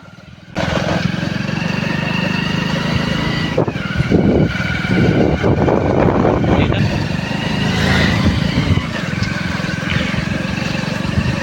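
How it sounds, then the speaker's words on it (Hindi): A motorcycle rides along and brakes to a stop, its engine droning steadily up close with small surges in revving before it cuts off near the end. "तो फाइनली बाइक पर ब्रेक लग चुका था"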